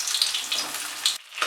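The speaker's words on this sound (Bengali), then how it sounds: "পটলগুলোকে ভালো করে ভেজে নেব।" Pointed gourd frying over medium heat in mustard oil in a hot kadai, a close steady sizzle and crackle that briefly drops away before resuming, with no talking.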